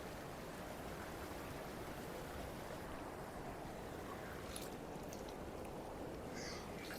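A cold mountain river rushes in a steady, broadband wash of flowing water close by while someone washes their feet, with a few faint splashes near the end.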